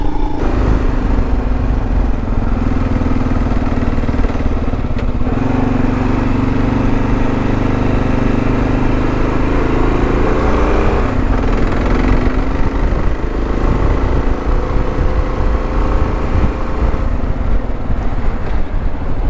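Royal Enfield Himalayan and KLR650 motorcycles riding backcountry trails, a loud continuous engine drone with shifting pitch under heavy wind buffeting, recorded close on the move.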